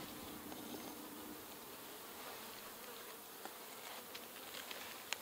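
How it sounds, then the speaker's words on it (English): Bees buzz around a beehive during an inspection, a faint, continuous swarm drone with a few small taps near the end. "I did have a bee in my veil."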